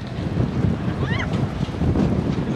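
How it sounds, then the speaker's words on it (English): Strong wind buffets the microphone in a loud, rumbling roar that never lets up, with a faint squeal briefly cutting through. "It is so windy."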